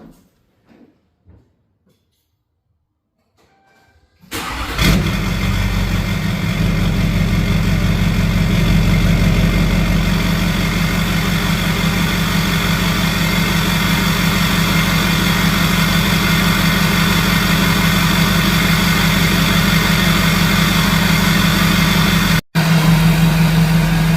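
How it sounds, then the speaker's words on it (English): A Duramax diesel truck with an MBRP 5-inch exhaust cold-starts after a few seconds of quiet, then settles into a loud, steady, deep rumbling idle that runs to the end with one brief dropout near the close. "Let's do a cold start."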